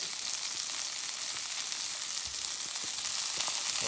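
Onions and pre-cooked sausages fry in a pan on a portable 9-inch Blackout Stove, giving a steady, close, dense sizzle with scattered pops and crackles that runs throughout, with no talking.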